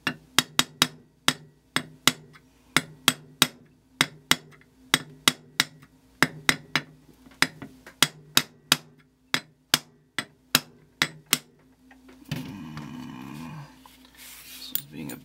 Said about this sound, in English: Now there's a pin that retains it. And this one you hammer from this side that way.